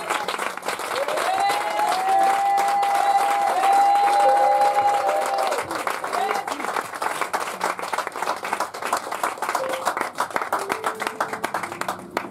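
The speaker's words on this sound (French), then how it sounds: "Est-ce que tu peux acclamer fortement le Seigneur Jésus?" A church congregation claps and acclaims loudly at a French-language worship service, dense steady applause with a sustained sung or shouted tone rising over it at first, then continuing clapping that gradually thins.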